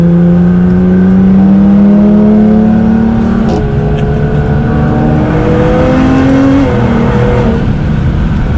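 Nissan GT-R in race mode accelerating hard, its engine note climbing through several gears with brief shift breaks, loud and close from inside the car.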